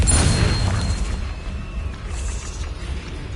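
A Confringo spell in Hogwarts Legacy lands as a loud, close blast that booms at the start and then rolls off into a fading low rumble.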